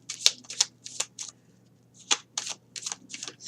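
Small tarot cards being shuffled by hand, in crisp riffling bursts with short pauses between them, close and fairly quiet.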